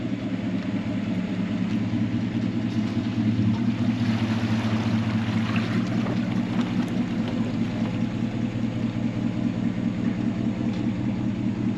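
A Mercury 9.9 outboard motor drives a boat across a lake, a steady, loud, continuous drone with a constant pitch and no one speaking.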